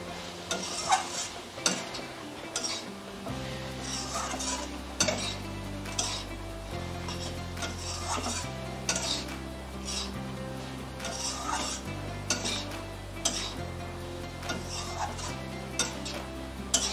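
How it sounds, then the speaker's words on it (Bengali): Prawns and taro stolons are sautéed in a pan, a soft sizzle under frequent clinks and scrapes of a spoon stirring, with a steady rhythmic tone running beneath; quiet and close. "চিংড়ি মাছ দিয়ে 2 মিনিট কষাবো।"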